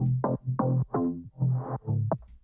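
Several short, punchy deep house bass synth notes in sequence, each a low tone with a bright attack, separated by brief gaps, playing alone.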